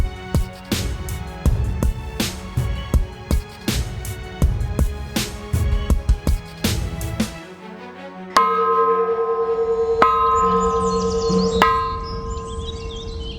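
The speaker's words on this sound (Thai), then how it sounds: "มีระฆังให้เคาะ" A temple bell being struck at a shrine in a Thai heritage park of giant old trees: a quick series of loud, ringing strikes, then a few slower hits whose bright tones hang and decay, with no voices.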